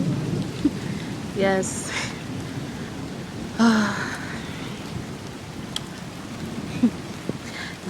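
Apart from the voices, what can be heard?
rain and thunder outdoors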